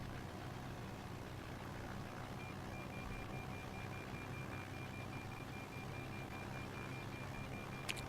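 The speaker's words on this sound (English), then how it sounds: "What's that beeping noise? Is that like the middle marker?" In X-Plane 11, a cockpit marker signal on a hang glider sounds as a faint, rapid series of evenly spaced high beeps. The beeps run steadily for several seconds over a constant low wind-like rumble.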